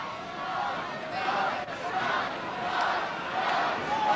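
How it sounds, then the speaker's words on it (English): Rugby league supporters chant across the stands during a wet 1981 Norths versus Manly round 9 match, a broad, steady swell of many voices in the distance rising and falling over several seconds. "Crowd setting up a chant for them."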